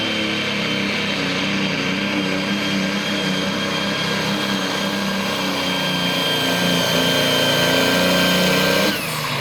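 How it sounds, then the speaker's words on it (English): John Deere's biggest two-wheel drive tractor pulling at a truck and tractor pull, a steady, loud engine roar with a thin, high turbo whistle riding over it, running continuously until it stops abruptly near the end. "Did you hear that turbo whistling?"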